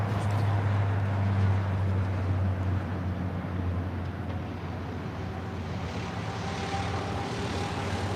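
A heavy jet airliner descends toward runway 25 left at LAX, its engine roar loud and steady throughout, a continuous broadband rumble with a low drone that eases slightly midway.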